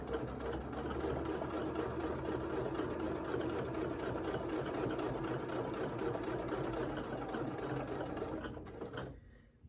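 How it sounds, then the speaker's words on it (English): A sewing machine stitches a friendship star quilt block with a fast, even, continuous mechanical whir and needle rhythm, close and loud, running nearly ten seconds before stopping abruptly. "Needle down. And let's sew."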